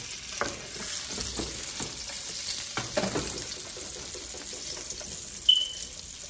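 Oxtail pieces go into a pan of vegetable oil and butter on medium-high heat, giving a faint sizzle with a few soft thuds and clatters, then a brief higher squeak near the end.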